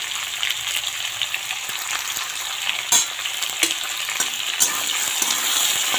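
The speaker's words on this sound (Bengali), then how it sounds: "লবণ হলুদ দিয়ে ভালো করে ভেজে নেব।" Ridge gourd and jackfruit seeds fry with salt and turmeric in a pan, giving a steady, close sizzle with scattered crackles and a few sharper pops. No one speaks over it.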